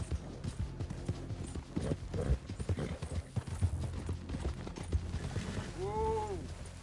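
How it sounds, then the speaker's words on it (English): Horse hooves clip-clopping steadily through a Red Dead Redemption 2 game scene, with a short neigh near the end, all under ongoing talk. "Whose big horse is that?"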